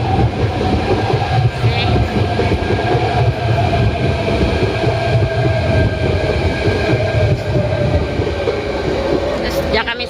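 Trains run on the railway near Sunny Bay, making a loud, continuous rolling rumble with clattering wheels and faint squeals, close by, while a voice speaks briefly.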